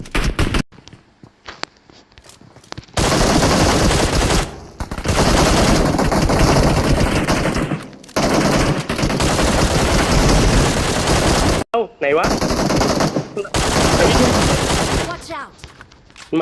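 Heavy gunfire from outside players in PUBG Mobile, long sustained automatic bursts, loud and dense, broken by short pauses, with some quieter shuffling and footsteps between volleys.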